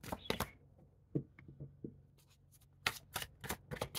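Tarot cards shuffled by hand in a quiet room, giving a run of crisp riffling bursts and soft flicks, close up and fairly loud, alone with no talk.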